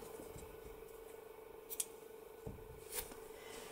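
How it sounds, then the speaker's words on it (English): Scissors snipping crochet yarn during a granny square blanket project, a few brief crisp cuts close by against a faint steady hum. "cut the yarn"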